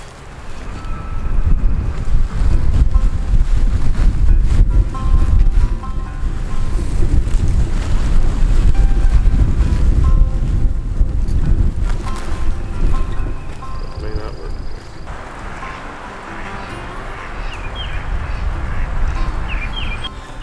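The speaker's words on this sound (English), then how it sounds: "Since the wind is picking up, it keeps picking up" Strong gusts batter an outdoor microphone on open land, producing a loud, continuous low roar and rumble that swells and eases over twenty seconds, with a faint high tone near the end and no voices.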